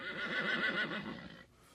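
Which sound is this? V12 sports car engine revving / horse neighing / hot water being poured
horse neighing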